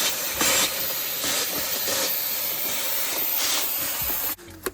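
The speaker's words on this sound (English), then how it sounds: "So I'm going to go ahead and use my vacuum." A vacuum nozzle sucks debris out of the engine air filter housing of a 2013 Volvo XC90, a steady, loud rushing hiss that runs for several seconds before cutting off abruptly with a small knock.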